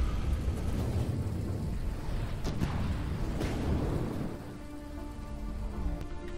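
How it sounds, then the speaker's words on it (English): Rain pours steadily in the From the Depths game world, with a couple of sharp thunder cracks midway before the downpour eases into a softer hiss, all fairly quiet and without voices. "Now raining again, so visibility is atrocious."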